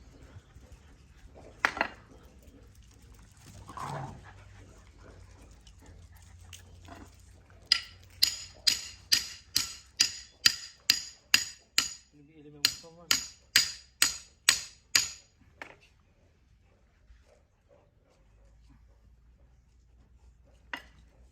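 A series of sharp, ringing hammer blows striking a nail, about fifteen evenly spaced metallic hits in a quiet space, preceded by a few scattered knocks.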